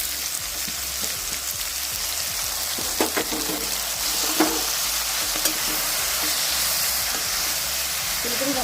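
Pumpkin and chopped cabbage frying in a pan for khichuri, a dense, steady close-up sizzle and hiss with occasional stirring scrapes and clinks, no one talking.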